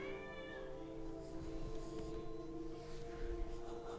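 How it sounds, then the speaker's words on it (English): Kitten meowing loudly in a room, a few drawn-out meows near the microphone over a steady hum of Witcher 3: Wild Hunt game audio. "That was my kitten, just started meowing loudly."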